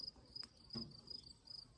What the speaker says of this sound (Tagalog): Nadidinig kuliglig oh.